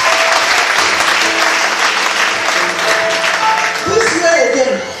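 A church congregation claps loudly and steadily for Master Jesus, a dense sustained applause with voices woven through and a sung or spoken tone rising near the end.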